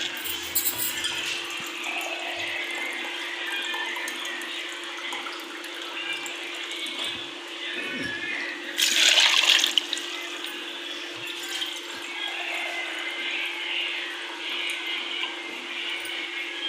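Water pours steadily into a blender jar for peach juice, a continuous splashing rush lasting many seconds, with a brief louder burst midway and a constant low hum underneath.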